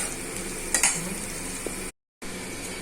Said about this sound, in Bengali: শুকনো লঙ্কা গোটা দিয়ে সঙ্গে দিলাম। কোনটা ভালো করে ভেজে নিচ্ছি।